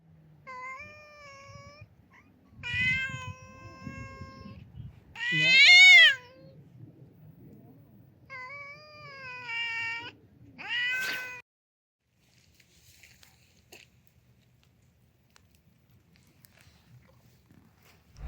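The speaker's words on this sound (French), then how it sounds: "Heureusement, les chats ont carré la journée." Cats in Turkey meow repeatedly at close range, a series of several distinct high calls with pauses between them, one rising into a louder caterwaul, followed by near silence.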